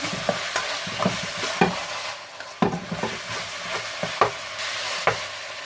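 Ingredients stir-fried in a pan with black pepper, sugar and onion, close sizzling broken by repeated sharp scrapes and clacks of a spatula at an uneven rhythm, with no talk.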